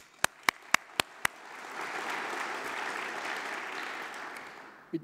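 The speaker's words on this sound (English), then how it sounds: "maybe a round of applause to you for putting this together" At a conference session on European data spaces, a few sharp, evenly spaced claps come first, then scattered audience applause swells and carries on at moderate volume.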